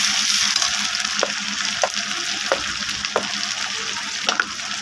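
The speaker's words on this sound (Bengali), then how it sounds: "মশলাটাকে ভালো করে কষিয়ে নেব।" Spice paste of chili, ginger, garlic and cumin sizzles steadily in hot oil, a close, dense frying hiss with occasional soft scraping strokes from a stirring utensil.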